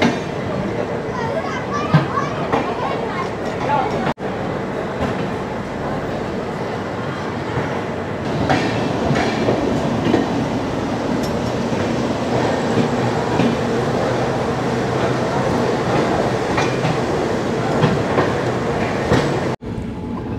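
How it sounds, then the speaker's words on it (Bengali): Rajdhani Express train in motion just after departing Dhanbad, a steady loud rumble of wheels and carriage running throughout, with passengers talking over it close by. "ধানবাদ থেকে ট্রেন ছাড়লো"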